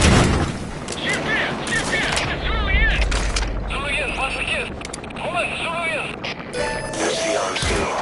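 Cover gunfire in a Metal Gear video game rattles along under music and game voices, with bursts of shots and booming impacts mixed into a busy, loud soundscape.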